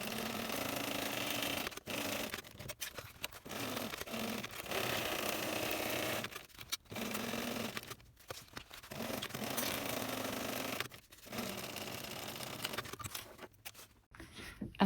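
A sewing machine stitches three sides of a backpack pocket shut, running steadily in several long bursts broken by brief pauses, close and alone with no talking.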